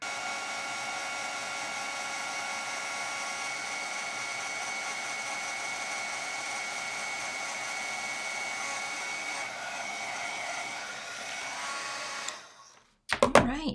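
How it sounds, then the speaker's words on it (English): Craft heat tool blowing hot air to melt embossing powder, a loud steady whooshing hum that runs unbroken for about twelve seconds before cutting off, followed by a few brief clatters. "I'll go ahead and heat up my heat tool and we'll melt the powder."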